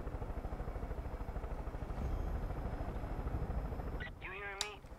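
A video-game helicopter's rotor thumps in a fast, steady pulse, fairly close and sustained, before other sounds briefly cut in near the end.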